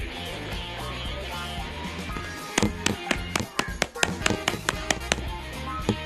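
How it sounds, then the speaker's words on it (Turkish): A run of quick, sharp knocks on a door, irregular taps coming close and loud after a stretch of background sound, with voices talking around them. "Kapı çaldı ben açayım."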